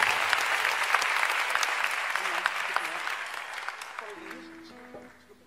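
A concert audience at a Brazilian MPB show bursts into loud, dense applause that holds steady, then thins and fades away near the end as a faint voice emerges.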